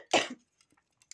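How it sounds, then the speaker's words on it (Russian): A single short, sharp human cough sounds close to the microphone in a quiet room, followed by a few faint soft clicks. "Простите за кашель."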